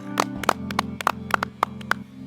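A small group claps to celebrate finishing the 2024 Daegu Marathon, about a dozen sharp, irregular claps close by, loud and distinct over a steady low hum.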